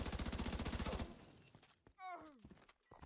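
Rapid automatic gunfire from The Division 2 rattles loud and close for about a second, then cuts off, leaving fainter scattered shots and a brief voice-like sound.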